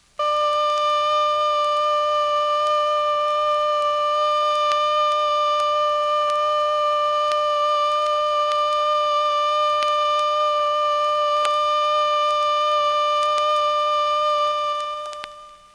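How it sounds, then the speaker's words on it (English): A civil defense siren's steady alert tone blares continuously for about fifteen seconds, loud and constant, then cuts off abruptly at the end. "The alert signal is a steady blast on a siren or fire horn of 3 to 5 minutes duration."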